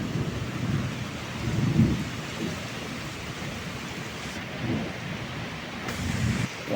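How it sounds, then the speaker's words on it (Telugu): Thunder during a windy rainstorm rumbles low and heavy in several rolling swells over a constant hiss of falling rain, with no voices. "ఉరుములు అయితే గట్టిగా వస్తాయి."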